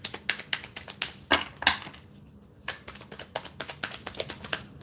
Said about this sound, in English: These cards do not shuffle nearly as good as mine.